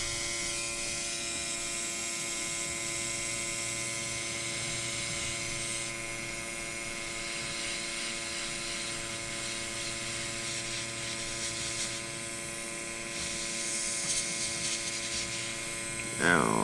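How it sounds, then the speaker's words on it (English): Amazon cordless air compressor running on its high setting, a steady droning hum with a strong tonal whine that holds evenly throughout, with a faint voice underneath and a brief louder knock at the very end. "now here's the air compressor on. I'm gonna do it on high"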